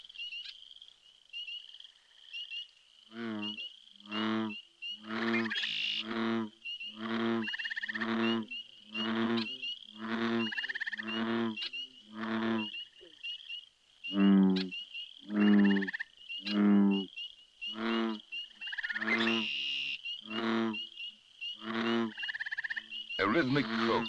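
Frogs in the Algonquin wilderness croak in a steady, rhythmic series of deep pulsing calls, repeated evenly over about twenty seconds against a thin high insect-like hiss, fairly close and clear.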